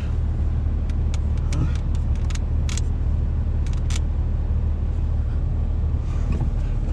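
A pickup truck drives slowly across a farm among cows, its engine a steady low rumble with scattered clicks and rattles from the cab.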